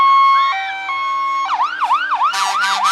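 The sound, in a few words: fire pumper truck siren passing in a Santa parade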